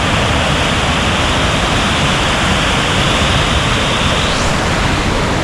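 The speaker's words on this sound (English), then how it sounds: "This is the Munich River Wave." Munich river standing surf wave, a loud, constant roar of rushing whitewater filling the scene without pause, close and dense, with no voices.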